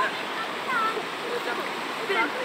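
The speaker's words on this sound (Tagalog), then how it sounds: "grabe ang agos ng tubig dito" Strong river current rushing at Majayjay river in Laguna, a steady close hiss of fast water with small splashes and gurgles, while a voice talks over it.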